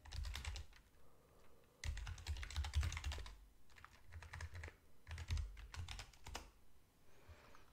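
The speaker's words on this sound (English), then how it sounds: "so I'll just type the path in there." Typing on a computer keyboard while entering a file path, heard as quiet close key clicks in three or four short bursts separated by brief pauses.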